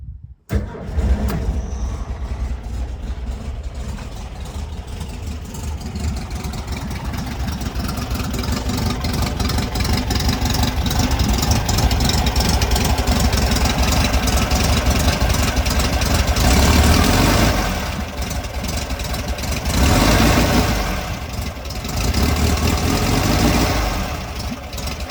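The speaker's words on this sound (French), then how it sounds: "un bruit sympa de Flat 4" A 1965 Volkswagen T1 flat-four engine cranks and catches, then settles into a steady, loud idle in neutral, with a few brief swells in revs near the end.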